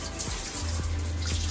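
Hot water runs from a shower in a bathroom, a steady gentle hiss with a few soft low knocks or splashes along the way, close by and with no talk.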